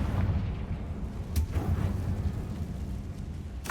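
Confringo fire-blast spells in a wizarding video game burst out as two sharp explosive cracks, one near the middle and one at the end, over a continuous low rumbling game soundtrack.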